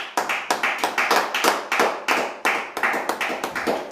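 A church congregation in Montréal claps in quick rhythmic bursts, loud and close, a brisk steady beat of hands with faint voices underneath.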